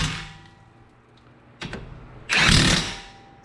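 An impact gun with a 17mm socket works a brake bolt on a 2018 Toyota Sienna during a front pad and rotor job: a quick double burst, then a louder sustained rattle of about a second.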